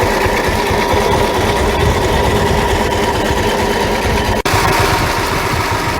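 A John Deere H tractor engine idles steadily and loudly close by, a continuous even chugging drone with a single brief dropout near the end and no voices.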